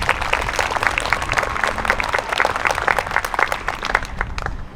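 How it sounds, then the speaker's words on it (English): Audience applauding choir students at a school music session, a dense, continuous patter of clapping from a group, fairly loud and close, fading near the end. "So let's give the students a round of applause for overcoming all of that this"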